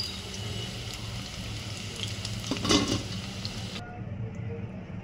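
Potatoes deep fry in hot oil for crispy Potato 65, a close, steady bubbling sizzle with a brief louder stir in the middle before the sound cuts off abruptly.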